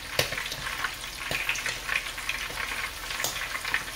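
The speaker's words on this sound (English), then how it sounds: "Now I'm frying this on" Bacon-wrapped boudin stuffed biscuits frying on an electric stove at about medium heat, giving a steady close sizzle with bright crackling pops scattered throughout and no voices.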